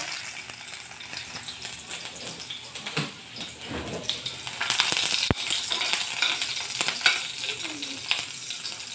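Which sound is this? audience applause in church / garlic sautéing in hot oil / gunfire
garlic sautéing in hot oil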